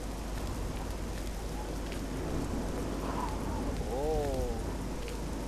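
Steady rain hisses throughout a scene in the video game Oblivion, a constant even wash of moderate loudness, with a brief wavering tone near the end.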